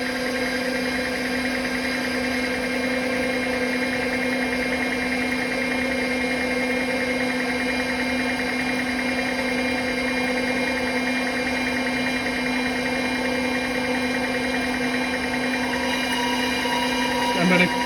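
A metal lathe takes a 25 thou cut while turning an outside diameter up to a shoulder on a ball peen hammer workpiece, giving a steady, loud machine drone with constant tonal hum throughout.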